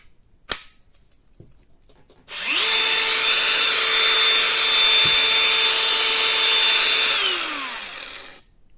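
A Dewalt DCG 405 angle grinder spins up sharply, holds a loud, steady high-pitched whine for about five seconds, then winds down as the disc coasts to a stop, preceded by a brief click.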